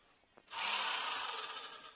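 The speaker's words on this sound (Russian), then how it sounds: "И загоняем в каждую точку крепления по два самореза." A power screwdriver drives self-tapping screws through floor boards into joists, a short whine that starts abruptly after faint handling clicks and holds steady for over a second.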